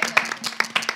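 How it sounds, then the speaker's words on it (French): Short burst of audience applause in a French-language TV studio show, a handful of quick, close hand claps over about a second. "On va applaudir pour elle quand même."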